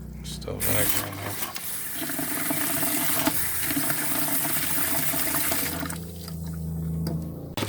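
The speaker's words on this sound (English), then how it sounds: "We're running water." Water runs from a faucet in a Class B camper van, a steady close rushing hiss that carries on for several seconds without a break.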